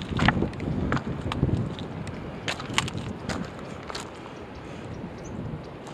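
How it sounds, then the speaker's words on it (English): Gusty wind at an exposed trout fishing spot buffets the microphone steadily, a low rushing roar with a few sharper knocks and rustles, and no talking. "I'm really exposing myself to the wind out here at this part"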